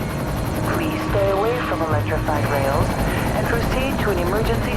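Helicopter in the video game Black Mesa, a steady rotor drone running throughout at moderate loudness beneath a voice and other game sounds.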